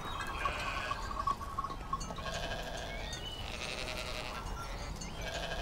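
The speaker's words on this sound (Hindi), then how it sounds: "आइंदा अपनी भेड़ों को चराने के लिए हमारे खेतों में ना लाएं" Sheep bleat in grazing fields, several wavering calls overlapping near and farther off above a soft outdoor background.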